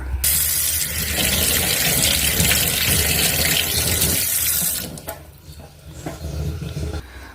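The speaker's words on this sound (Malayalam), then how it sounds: "ഉരുളക്കിഴങ്ങും തക്കാളിയുമൊക്കെ നന്നായി ഒന്ന് വാഷ് ചെയ്യുക വെറും വെള്ളത്തിൽ വാഷ് ചെയ്യുക" Running water splashes steadily as produce is rinsed under a tap, then the flow cuts off, leaving quieter handling sounds.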